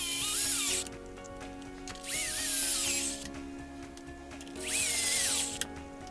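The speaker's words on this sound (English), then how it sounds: "Let's get the skid plate back in place. Just like so. Run the screws in." A power driver runs screws into the skid plate of an Xmaxx RC truck in three separate bursts, each a loud whirring spin that rises in pitch and then cuts off, with brief pauses between.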